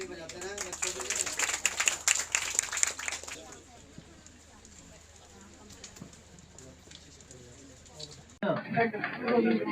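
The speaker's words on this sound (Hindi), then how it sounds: "ताली बजाते हैं बच्चों के लिए।" Applause for schoolchildren receiving certificates at a minority commission awards ceremony, with scattered clapping strongest early on, fading to a low murmur, then a sudden louder burst near the end.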